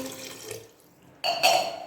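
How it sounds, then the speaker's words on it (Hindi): A glass of water is poured into a cooking pot holding beef for tikka. A close splash and trickle fades briefly, then returns stronger as the pouring resumes, with no speech. "अब हम इसके अंदर 1 गिलास पानी डाल देंगे"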